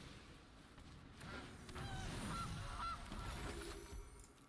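A goose honks in a Magic: The Gathering card game as a card is played, a few short nasal honks over a soft rumbling background.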